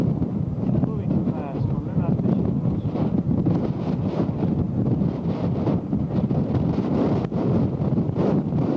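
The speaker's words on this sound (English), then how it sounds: "It's so very, very windy" Strong wind buffets the microphone in a continuous, heavy rumble that fills the whole clip, on the outskirts of Istanbul.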